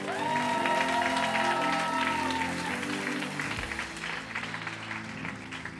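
A church congregation applauds and cheers during a French-language worship service, steady crowd clapping with a sustained sung or held tone at first, then a looser, thinning round of claps.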